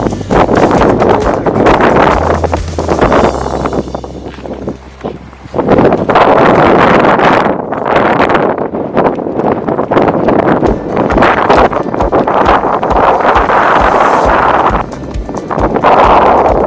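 Loud, blustery wind buffets the microphone in strong gusts outside a cold farmhouse in Canada, with a brief lull midway before roaring back.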